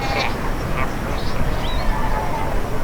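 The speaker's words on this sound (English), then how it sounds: "If I'm not imagining, it almost sounds as if they bleat like sheep." A colony of Cape fur seals at Robberg Nature Reserve bleats from a distance, with short sheep-like calls rising over steady surf and wind noise.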